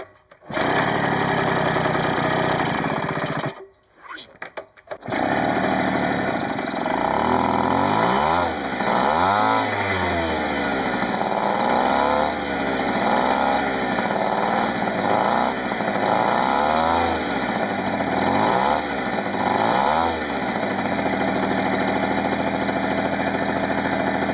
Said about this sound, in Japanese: 普通のガソリンを入れてエンジン始動